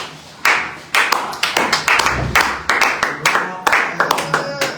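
Congregation at a church service in Germany clapping to acclaim the Lord, loud and close, with sharp, fairly regular rhythmic claps and a few voices underneath.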